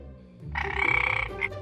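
A frog gives one loud, buzzing, rattling croak lasting under a second, followed by a brief shorter chirp, close and alone.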